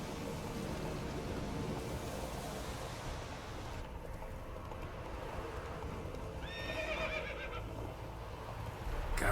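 A horse in The Witcher 3 gives a clear whinny near the end, with hoof clip-clops and dense ambient game noise throughout.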